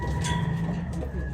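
A pigeon gives a short, low, throaty coo close by, lasting just over a second against a faint background hum.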